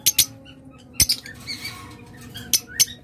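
Pet lovebirds, cockatiels and budgerigars squawk and chirp in short sharp bursts, several close calls spaced irregularly with faint twittering between them and no talk.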